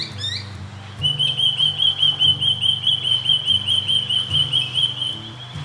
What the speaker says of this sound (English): can hear the Australian native birds in the background